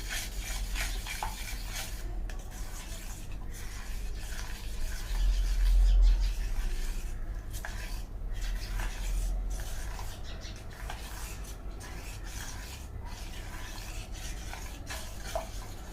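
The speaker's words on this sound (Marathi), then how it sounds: "याला मिक्स करून घेऊया." Semolina soaked for an hour is stirred together with gram flour in a bowl, giving continuous soft scraping and rubbing strokes with faint, wet, gritty swishes, close and steady, with no talk.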